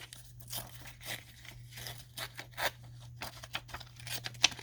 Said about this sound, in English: I'm going to tear this down a little bit.